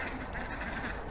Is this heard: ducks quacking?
yes